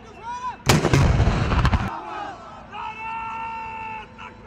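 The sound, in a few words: ceremonial cannon salute fired at Eid Milad celebrations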